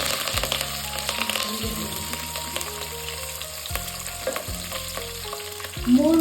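Curry leaves sizzle and crackle loudly in hot oil tempering for moong dal uppittu, a steady frying hiss with bursts, heard alone with faint background tones.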